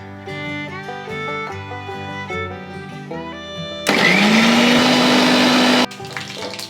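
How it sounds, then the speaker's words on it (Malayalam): A mixer grinder whirs loudly for about two seconds as it grinds coconut and coriander into a chutney for a seven-grain protein dosa, its motor pitch rising as it spins up. Soft background music plays before and after. "ഇനി നമുക്ക് ഇതൊന്ന് അരച്ചെടുക്കാം"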